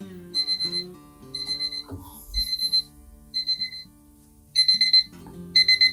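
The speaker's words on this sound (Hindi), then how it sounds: "यार मेरा ये अलार्म आ गया था ना" A phone alarm rings with clusters of high, bright electronic beeps repeating in a steady pattern, loud and close, over faint background tones.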